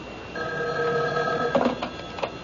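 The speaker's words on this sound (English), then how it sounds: "Excuse me, that's my phone." An old-fashioned telephone bell rings in a radio drama, two bursts of trilling rings close by, followed by short clattering handling noises.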